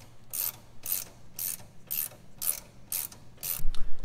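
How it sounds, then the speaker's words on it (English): Ratcheting a screwdriver or ratchet to tighten the sway bar link nut on a Jeep TJ while installing a JKS quick disconnect, a steady series of about seven close, crisp clicks spaced roughly half a second apart. "Start your nut on there and throw your screwdriver inside and tighten it up."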